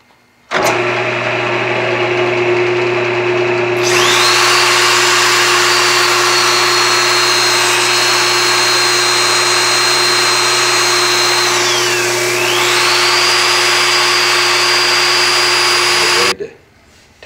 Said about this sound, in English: now I'm going to sand it. I got it here in the lathe.